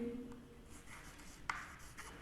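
Chalk or marker scratching across a board during a lecture, a few short rubbing strokes close by and fairly quiet, with no talk over it.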